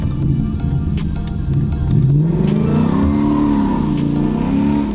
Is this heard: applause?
no